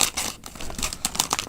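Quick crisp snips and crinkling as scissors cut through the packaging of a pudding kit, several rapid cuts close up.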